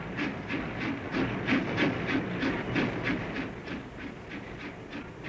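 A goods train runs on a branch line railway in Somerset near Pill, with steady rhythmic wheel clicks over the rails beneath a continuous rumbling hiss, moderately loud and unbroken.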